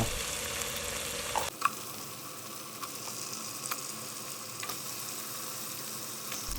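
Chicken pieces frying in a pan with garlic and ginger paste, a steady broad sizzle throughout after a brief clatter as the meat goes in, with faint occasional stirring ticks, close and moderately loud with no talking.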